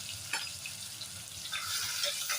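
Chopped onion sizzles in hot oil with whole cumin seeds while chana masala is being made. A steady, close hiss of frying continues throughout with small crackles, and no talking is heard.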